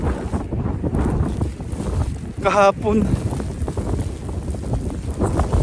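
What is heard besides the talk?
strong wind in a snowstorm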